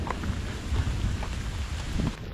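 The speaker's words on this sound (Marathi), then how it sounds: "आखिर जिसका डर था वही हुआ, बारिश शुरू हो चुकी है" Rain pours down in a dense forest on a monsoon trek toward a temple. It makes a continuous close hiss and patter, with low rumbling under it.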